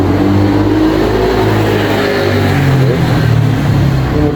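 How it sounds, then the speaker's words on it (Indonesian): A motorcycle engine roars loud and close, holding a steady, continuous drone across the whole stretch with no voices over it. "Ini motor berisik banget beli mahal-mahal Supra aja."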